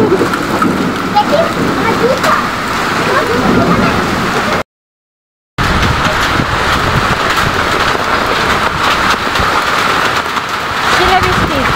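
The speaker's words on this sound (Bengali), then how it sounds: "শিলাবৃষ্টি" Heavy hailstorm pelting a village yard and pond, a dense, steady clatter and splash throughout, broken by a short dropout near the middle, with wind noise and voices talking over it.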